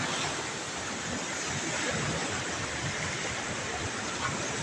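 Big sea waves churn during a storm near a shoreline where a small boat rests, a dense, constant roar of surf and wind that fills the whole scene without a break and without talk.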